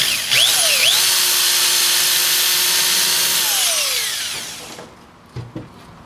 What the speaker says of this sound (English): So we need to, again, drill another hole right up in this area.